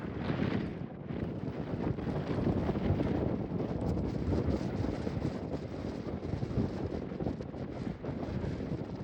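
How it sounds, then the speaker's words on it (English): Strong wind roars steadily across the microphone, buffeting it with a constant rushing noise that never lets up. "it's blowing quite windy, as you can probably hear"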